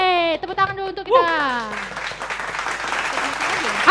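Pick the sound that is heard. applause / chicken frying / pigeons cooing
applause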